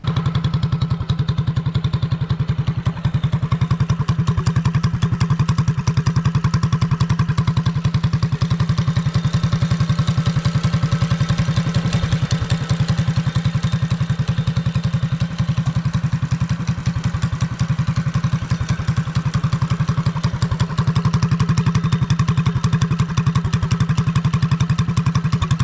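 A custom mini drift quad with a new exhaust, its small engine running steadily outdoors, a loud, rapid, buzzy exhaust pulse held at a near-constant idle throughout with no talk.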